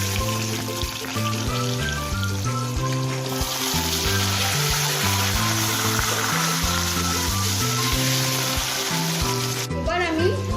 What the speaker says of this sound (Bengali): এবার আমি এতে আলু টুকরোগুলো ভেজে নেব।